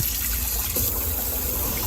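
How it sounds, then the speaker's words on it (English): Water runs steadily from a tap into a bucket at a homemade harvest table for rinsing vegetables, a continuous close trickle and gush with no pause. "And we have running water."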